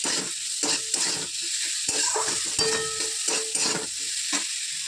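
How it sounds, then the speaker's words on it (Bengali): Onions frying in a little oil in a pan with salt added, a steady close sizzle broken by repeated scraping stirs of a spatula, with no talking. "এটা নুন দিয়ে এখন ভাজতে দিই"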